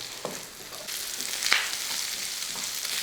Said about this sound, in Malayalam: സബോള ചെറുതായിട്ടൊന്ന് വാട്ടിയെടുക്കണം